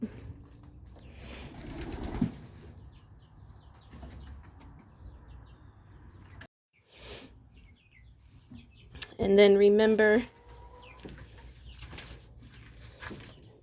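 Chickens cluck and call nearby, including one loud squawking burst, with a person speaking briefly and some outdoor rustling.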